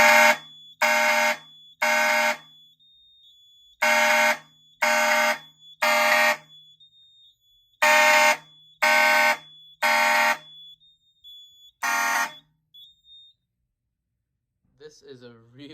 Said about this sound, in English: as I have 3 mechanical horns, and one of them is 100 decibels.